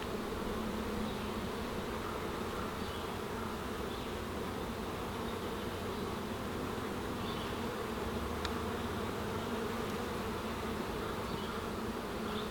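Honeybees buzzing on a heavy brood frame pulled from a hive, a steady close drone of many bees with faint individual wingbeat swells throughout and no one talking.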